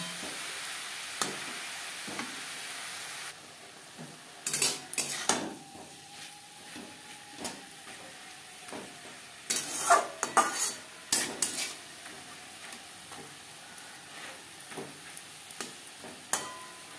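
Spinach stirred together with pumpkin and eggplant in a pan over a high-to-medium flame: intermittent scraping and clinking of a spatula against the pan, a few sharper clusters of knocks, over a faint steady sizzle with no talking.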